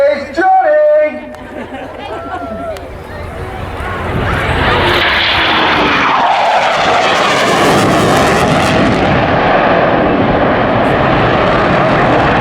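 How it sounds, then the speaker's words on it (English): Eurofighter Typhoon display jet making a flypast at an air show, a loud roaring jet rush swelling from about four seconds and holding steady to the end, with crowd chatter and voices talking underneath. "So looking out to the left, the 2015 Typhoon display team."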